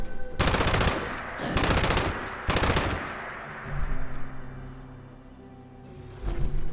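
Machine gun fire in a first-person shooter game, with three loud sustained bursts of rapid shots separated by short gaps, then a lower mechanical hum and the start of a fourth burst at the end.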